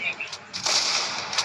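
Gunfire in the Free Fire video game comes as a few quick sharp bursts of shots over a low background.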